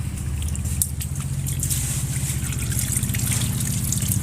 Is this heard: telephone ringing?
no